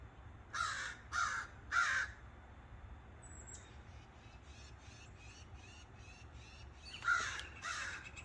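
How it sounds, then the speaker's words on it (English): A crow perched up in the trees gives three loud, harsh caws in quick succession, then a quieter stretch with faint distant calls before two more caws close by. "Look at the crow up there sitting."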